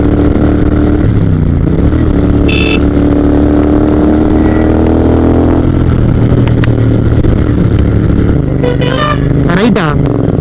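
Royal Enfield GT650 motorcycle with a modified exhaust pulling in second gear, a loud, deep, throaty engine drone that rises and shifts in pitch as it accelerates on a college road, with other passing engines and brief horn-like tones near the end.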